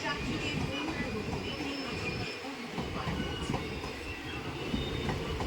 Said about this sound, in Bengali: বর্ধমানে ঢুকলো তিন নম্বর প্ল্যাটফর্মের মধ্যে ট্রেন ঢুকছে